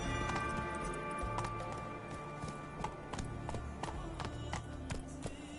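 Roach the horse gallops in The Witcher 3, a steady clip-clop of hooves running close and continuous over a busy game soundscape.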